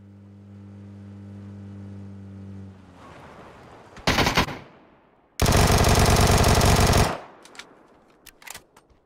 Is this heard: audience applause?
no